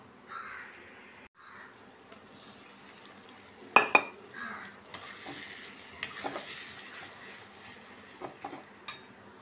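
Coconut, garlic, ginger, chili and turmeric paste with yogurt frying for a kofta curry gravy, a faint sizzle with intermittent spatula scrapes and clinks against the pan, sharper knocks scattered throughout, no talk.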